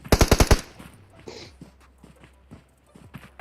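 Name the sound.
gunfire in the video game PUBG Mobile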